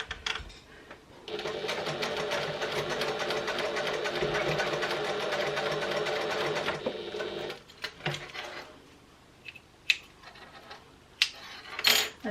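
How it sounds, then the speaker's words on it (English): A sewing machine stitching the edges of a fabric clutch wallet runs in one steady rapid burst of about six seconds, close up, followed by scattered clicks and handling taps as the fabric is adjusted. "I'm just going to sew down roughly about maybe 3/8 of an inch"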